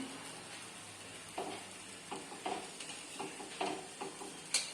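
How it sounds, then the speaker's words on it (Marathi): Aloo paratha roasts on a hot griddle, with a soft, quiet sizzle and a few light taps and scrapes of a spatula as it is pressed and turned. "पूर्ण असा खरपूस असा भाजून घ्यायचा दोन्ही बाजूने."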